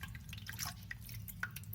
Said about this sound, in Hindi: वही आधा कप पानी जो हमने लिया था वो हम इसमें डाल लेंगे